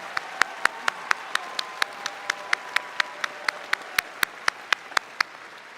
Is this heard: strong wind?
no